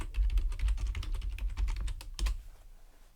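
Rapid typing on a computer keyboard, a dense run of close, crisp key clicks that stops abruptly near the end, leaving quiet.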